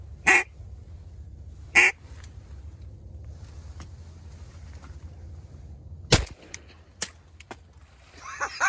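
Sharp shotgun blasts fired during an outdoor duck hunt, several loud isolated reports spaced seconds apart over quiet background noise, with birds calling faintly near the end.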